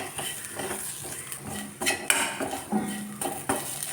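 Spice powders, including coriander powder, being sautéed in a pan for a pumpkin and onion dish, with a spoon scraping and clinking against the pan in irregular strokes, close and moderately loud, with no talking.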